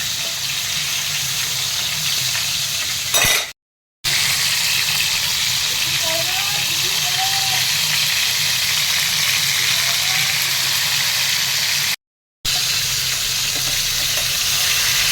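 Fish frying in hot oil in a pan, turned over halfway through cooking for a spicy Bhola fish curry, giving a steady loud sizzle with two brief dropouts.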